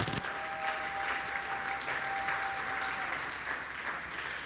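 A church congregation applauds throughout, steady sustained clapping with a few cheers mixed in, filling the hall evenly at moderate loudness.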